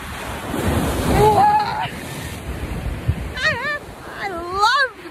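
Huge ocean waves crash on the shore at Oahu, Hawaii, in loud rolling surges with wind buffeting the microphone, and excited voices cry out over the surf.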